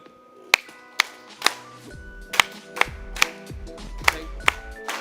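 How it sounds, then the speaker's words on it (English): At a Tecno phone launch event, people clap in slow, spaced single claps, roughly ten sharp separate hits with echoing decay, while faint background noise lingers between them. "I want us to clap 1, 2, 3, yeah."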